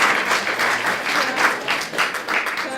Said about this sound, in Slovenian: jaz prosim en mali aplavz